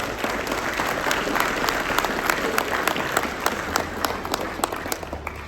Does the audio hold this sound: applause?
yes